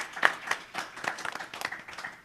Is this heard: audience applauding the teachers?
yes